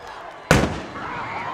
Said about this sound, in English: And there's the cannon.